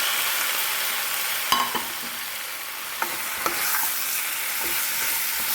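Marinated chicken with tomatoes fries in a hot pan, giving a loud, steady sizzle with a few sharp clacks from a spoon stirring it. No one speaks.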